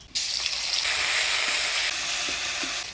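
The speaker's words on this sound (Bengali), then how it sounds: "এবার ডালের মধ্যে ফোড়ন দিয়ে দিব শুকনো লঙ্কা, তেজপাতা, মৌরি আর গোটা জিরা।" Dried chilli, bay leaf, fennel and whole cumin hit hot oil for a dal tempering, bursting into a sudden loud sizzle that holds steady and close for a few seconds, with a few faint utensil knocks and no talking.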